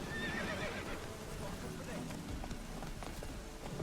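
Geralt's horse Roach in The Witcher 3 video game gives a high whinny near the start, followed by galloping hoofbeats, with someone talking over it.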